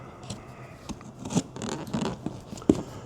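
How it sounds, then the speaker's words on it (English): A cardboard box holding Rivian R2 crossbars is cut open, heard as a few close scratchy rips and scraping slices in short bursts, fairly quiet, with no talking. "I'm gonna get it nicely cut open for you"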